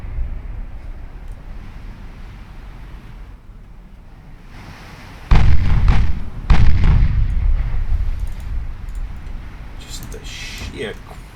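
Naval ship guns firing in the warship game Ultimate Admiral Dreadnoughts: two heavy booming salvos a second apart, each with a long rumbling decay over a low ocean-and-wind bed, followed by fainter distant reports.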